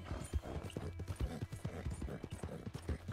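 Horse hooves clip-clop in a steady, close rhythm in Red Dead Redemption 2, the repeated thuds carrying through the whole stretch over a low background rumble.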